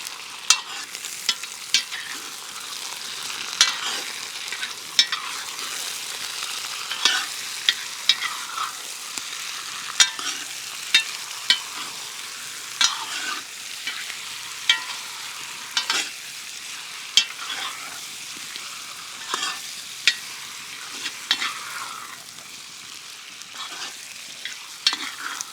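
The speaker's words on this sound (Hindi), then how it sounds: "अब समय है स्किन वाला चिकन सम्मिलित करने का। एक बार करछी चलाते हैं।" A ladle stirs skin-on chicken in a Dutch oven pot over a village cooking fire, giving a long steady sizzle broken by regular scraping and clanking strokes, close up and with no voices.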